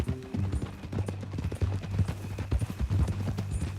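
Horse hooves clip-clop in Red Dead Redemption 2, a brisk uneven rhythm of close hoofbeats with a low steady hum beneath.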